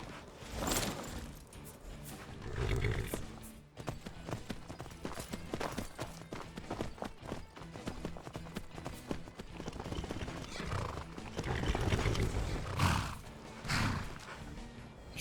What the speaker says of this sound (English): Yeah, there are horses here.